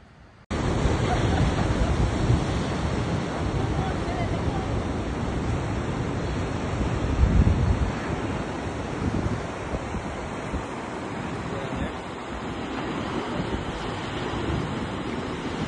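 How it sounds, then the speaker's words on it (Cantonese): Heavy ocean surf crashing against the rugged limestone coast of the Great Ocean Road, a loud continuous roar of breaking waves mixed with gusty wind buffeting the microphone, with a stronger surge midway. "聽下啲浪聲有幾犀利先"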